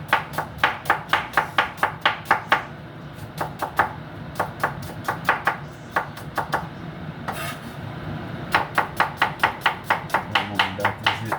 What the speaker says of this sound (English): Make sure I cut up my onion properly.